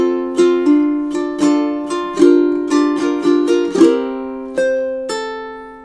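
A ukulele plays measures 9 and 10 of a song, a sequence of bright plucked notes and strummed chords, each ringing and decaying in a steady rhythm, close and clear with no talking.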